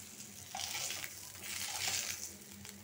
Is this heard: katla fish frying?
yes